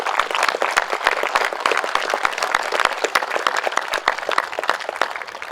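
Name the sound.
round of applause from the crowd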